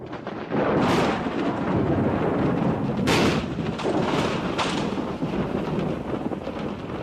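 Thunder from an approaching storm rolls across the hills of South Africa's Drakensberg mountains. It is a continuous deep rumble with several louder cracks swelling out of it and a windy background.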